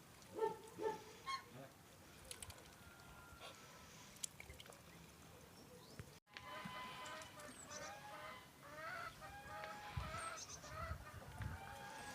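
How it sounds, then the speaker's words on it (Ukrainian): White ducks quack and honk in scattered bursts, faint at first then a louder cluster of calls nearby, with outdoor background noise. "Білі качки там також собі крякають, ходять"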